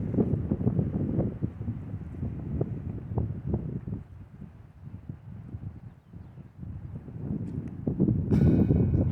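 Wind gusts across an outdoor disc golf course on a windy day, a steady low rumble of buffeting against the microphone that eases midway and then swells again, with no voices.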